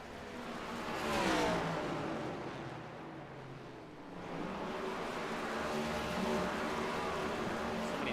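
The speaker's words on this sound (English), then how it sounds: "Doing a burnout over here" A NASCAR stock car in the iRacing video game does a burnout at Bristol, its engine revving in a steady, loud roar that swells and dips across the clip.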